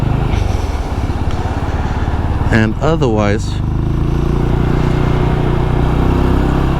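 A Benelli Imperiale 400 motorcycle rides through city traffic with a steady, close engine drone and rushing wind throughout, a rider's voice briefly heard over it.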